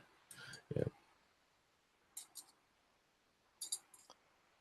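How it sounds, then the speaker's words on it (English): Metal puzzle pieces clack together in a few quiet bursts of sharp clicks, separated by silent pauses in a still room. "I keep hearing metal clacking together. This metal puzzle thing."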